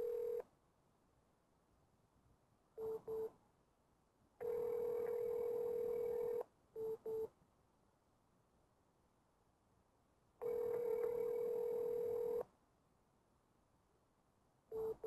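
Phone dialing a Google phone number: short tone bursts alternate with long steady ringback tones of about two seconds, repeated with quiet gaps, thin and faint, with no voices.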